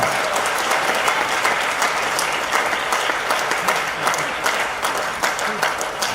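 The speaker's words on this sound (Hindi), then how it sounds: "समझ में आया तो ताली बजाओ" Audience at a business seminar applauding, a steady sustained wash of clapping from many hands lasting several seconds, fairly close and loud with no pause.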